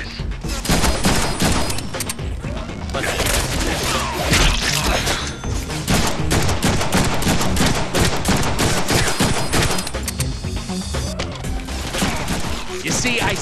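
Dense, relentless gunfire in the Deadpool video game, rapid bursts and cracks packed back to back for the whole stretch, loud and close, with a voice breaking in now and then.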